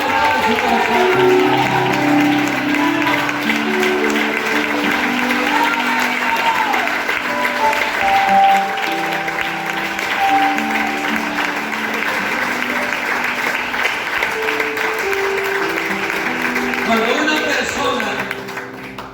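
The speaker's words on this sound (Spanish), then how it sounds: "Usted siga aplaudiendo a Dios." A church congregation applauds God during a Spanish-language sermon on spiritual bone structure, a sustained, dense wash of clapping from many hands that carries steadily for nearly twenty seconds, with voices mixed in beneath.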